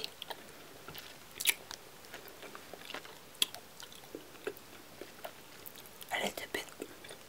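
Swedish Fish gummy candy being chewed close to the microphone, with soft sticky bites, squishy mastication and occasional wet smacks, quiet and intimate, with faint whispering breaths in between.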